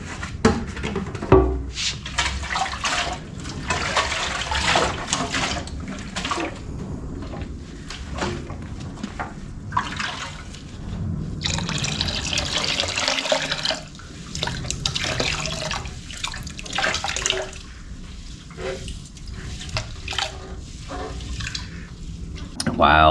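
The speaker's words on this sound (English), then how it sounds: "Rinse that out." Water runs and splashes while rinsing vinegar-loosened rust out of a 50-year-old dirt bike part, a steady close rushing flow with drips, under intermittent talk.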